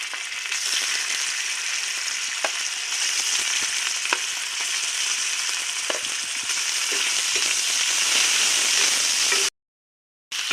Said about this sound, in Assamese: এতিয়া মই ইয়াত পনীৰখিনি দি দিছোঁ